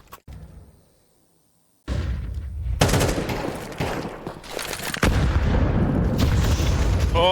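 Grenade blasts in a Counter-Strike 2 match at a CS2 Americas RMR esports event: a loud boom after a quiet gap, then dense rolling explosions and gunfire-like bursts that keep going to the end.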